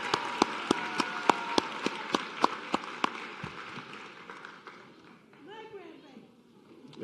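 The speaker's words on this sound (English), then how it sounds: "Another round of applause for this great group here" Audience at a white coat ceremony clapping in a steady, spaced beat that softens into scattered applause, followed by voices and cheering near the end.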